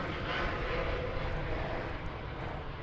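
An arriving Airbus A320neo from Las Vegas gives a steady broad jet roar, loud and sustained, with no voices heard.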